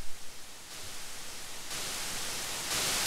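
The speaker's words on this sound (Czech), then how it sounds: "A šum je hlasitější." Harsh static hiss from the horror video game Sonic.exe, a steady broadband noise that grows louder in distinct steps, alone with no other sounds.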